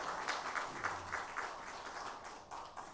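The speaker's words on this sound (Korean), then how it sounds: "외로운 찬양해 주신 성가대원들에게 다시 한번 감사의 박수하겠습니다." A church congregation at a Sunday worship service claps in thanks for the choir, a moderate, somewhat distant round of applause with soft rhythmic pulses and a faint voice underneath.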